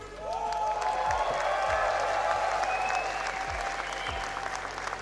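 A live audience at an RLCS Major 1 watch party cheers and applauds, with sustained clapping and whoops filling the space loudly and continuously for several seconds.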